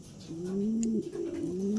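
A pigeon coos in a low, rolling, drawn-out call close by, the throaty tone wavering and repeating without pause.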